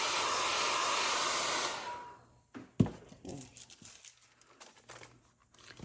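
A hair dryer blows over layers of mixed media paint, a loud steady roar for about two seconds that cuts off, followed by scattered soft rustles, a sharp knock and faint handling noises.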